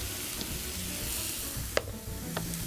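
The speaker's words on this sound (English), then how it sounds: "As you're sauteing all of these vegetables that are gonna be mixed with the farro" Red cabbage and onions sauté in a pan for a farro and vegetable dish, giving a steady soft sizzle with occasional utensil clicks and stirring, heard alone.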